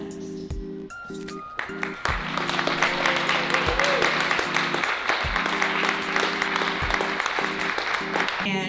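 Audience applause at a local live show, dense clapping swelling in and holding steady, loud and close, with a voice speaking over the start and musical tones ringing underneath.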